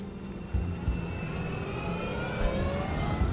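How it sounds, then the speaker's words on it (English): An MD-82 airliner accelerating down the runway on its takeoff roll, a steady loud engine roar that builds and swells with rising whine, close and continuous without talk. "the MD-82 aircraft starts speeding down the runway"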